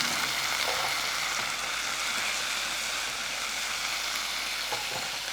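Vegetables with boiled green peas fry in a pan for semiya upma, a steady close hiss of sizzling with faint stirring scrapes, no voices.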